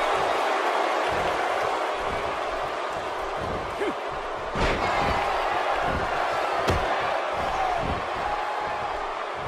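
A large Miami wrestling crowd roars continuously at an event, with rhythmic stomping thuds and occasional louder bursts of cheering and screaming, while a commentator talks over the din.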